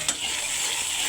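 Ginger and garlic sizzling with onions in a pan for a prawn fry, a dense steady hiss opening with one sharp tap, close and unbroken.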